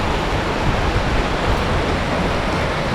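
A mountain river flowing beside a trailside meadow on the hike from Cottonwood Pass toward Mt Whitney, a loud, steady broadband rush of water filling the whole span with no voices.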